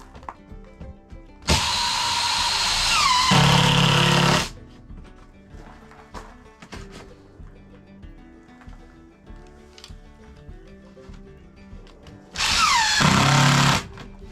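A power drill drives screws into a shelf bracket in two bursts, a long whirring run of about three seconds that drops in pitch as the screw seats, then a shorter run near the end, with quiet workshop handling between.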